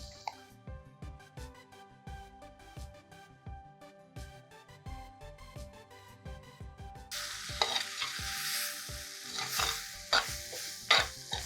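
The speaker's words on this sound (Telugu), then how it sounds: "ఒకసారి కలిపేసుకోండి." Quinoa khichdi with greens is stirred in a pan, with repeated rhythmic scraping strokes over a soft sizzle, growing louder and more hissing toward the end, close by.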